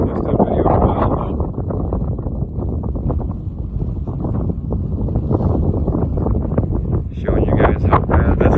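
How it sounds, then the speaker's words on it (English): Strong gusty wind roars continuously into the microphone, a loud, buffeting rumble with no let-up and rising bursts near the end, drowning out any other sound. "Showing you guys how bad this wind is today."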